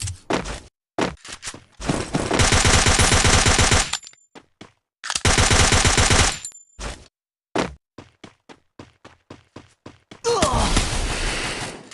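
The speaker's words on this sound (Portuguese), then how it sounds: "Por que tu vem atirar só em mim" Bursts of automatic gunfire in a shooting video game come in long, loud sustained volleys separated by short single shots and brief pauses, with one final burst at the end.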